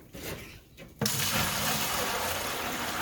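Rainwater collected off a gutter is poured from a 5-gallon bucket, a sudden rushing splash that starts after a brief quiet moment and continues steadily.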